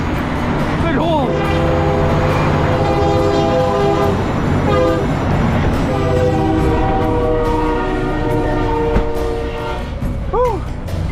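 A train rumbles past close by with a loud, continuous roar and droning horn tones, while people talk over the noise.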